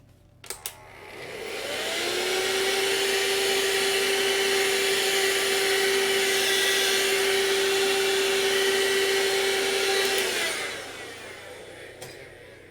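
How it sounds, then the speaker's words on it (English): A vacuum cleaner switches on, whirs steadily with a sustained motor tone for several seconds, then powers down, heard close and loud. "I'll just get the vacuum cleaner out."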